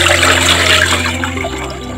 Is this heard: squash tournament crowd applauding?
no